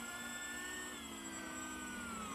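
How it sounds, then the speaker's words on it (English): Electric ducted fan of an RC Airbus model plane taxiing, one of its fans having only two blades: a steady, high, whining whir that holds unchanged throughout, fairly faint and with no talk over it. "So take off flaps, we'll do a little taxi."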